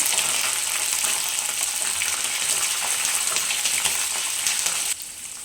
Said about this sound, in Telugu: పల్లీలు పల్లీలు కూడా బాగా ఫ్రై అయ్యాయి కదండి